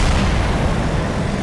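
Artillery fire in a tank battle video game, a loud, dense rumble of booming blasts that fills the whole moment without any talk.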